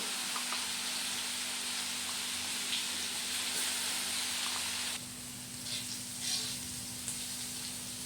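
Ground garlic paste added to hot oil over a low flame sizzles and hisses steadily for a chiwda recipe, with the sizzle shifting and settling partway through, close and continuous, with no talking.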